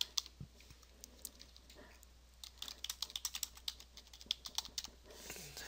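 Keys on a computer keyboard click as a password is typed, in quick, uneven runs of light taps with short pauses between. The sound is faint and close, with no voices.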